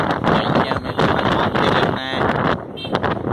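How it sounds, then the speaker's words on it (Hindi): Strong wind buffets the microphone outdoors in a garden area of a city, a loud, constant gusting roar with a faint voice mixed in. "हवा बहुत तेज़ चल रही है"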